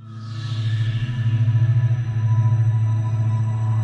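Sonified baryon acoustic oscillations from the early universe form a deep, slow, rhythmic pulsing drone that swells in and holds steady with faint higher tones above.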